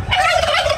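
A turkey gobbles loudly and close by in one rapid, warbling burst that fills the short moment, with no voices around it.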